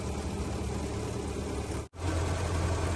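A 1914 Ford Model T engine runs steadily while climbing a hill, a constant low, rough drone, close and loud, broken by one brief dropout before the steady running resumes.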